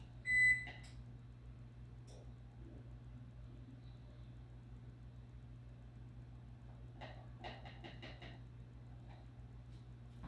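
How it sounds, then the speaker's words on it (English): A kitchen oven being switched on: a short burst of electronic beeps from its control panel, then a quick cluster of repeated beeps a few seconds later, over a steady low appliance hum. "One thing I did not do before I started this is start my oven."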